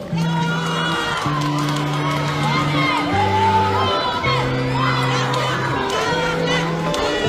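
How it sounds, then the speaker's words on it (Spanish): An audience cheers and applauds for a student speaker, with shouts and whoops over a band of steady tones. "Un fuerte aplauso, por favor."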